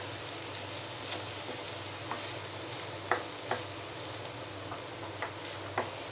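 Egg stirred in a frying pan for chicken fried rice hisses with a quiet, steady sizzle, punctuated every second or so by sharp spatula scrapes and taps against the pan.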